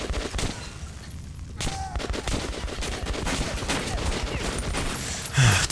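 Sustained gunfire in the post-apocalyptic shooter Metro: Last Light, with dense, loud rattling shots and reports filling the whole stretch, with no talk over it.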